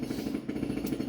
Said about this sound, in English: This drilling is affecting me